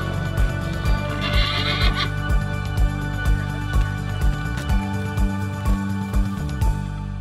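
Horses being unloaded from a trailer: heavy hoof thuds and clanks on the trailer floor repeat in an uneven rhythm, with a brief high whinny early on, all close and without talk.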